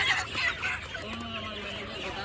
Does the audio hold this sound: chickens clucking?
yes